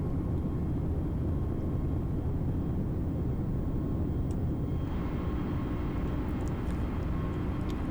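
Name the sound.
Airbus A320neo airliner in flight, Microsoft Flight Simulator video game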